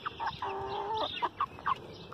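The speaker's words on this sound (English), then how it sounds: "you guys might like to see my poofy little chickens" Fluffy, feather-footed farm chickens cluck close up in a quick run of short, separate calls over a faint background hum.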